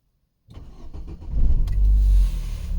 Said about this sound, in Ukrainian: Машина завелась на метані, дивіться.